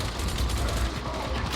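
Scab Gunner enemy from the game Darktide firing a heavy automatic weapon: a dense, continuous rattling mechanical clatter with rapid repeated bursts, loud and steady throughout, no speech.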